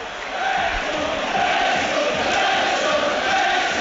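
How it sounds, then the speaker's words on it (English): A Wrexham football crowd roars and cheers during a home match against Notts County in April 2023, a loud, sustained wall of massed voices rising slightly and holding steady. "Gets the Wrexham crowd going again"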